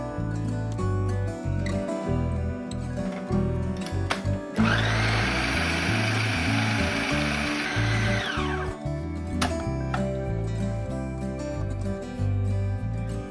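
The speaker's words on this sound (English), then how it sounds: "now we'll add some paneer in a food processor or in a blender and blend it really well" A blender purees paneer until smooth and creamy, a loud steady motor whine running several seconds between stretches of background music.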